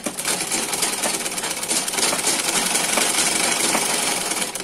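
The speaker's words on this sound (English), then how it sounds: "We are going to top stitch it this way, all the way down as well," A sewing machine runs steadily and continuously while top stitching down a trouser seam, with a loud, close mechanical whir that never pauses.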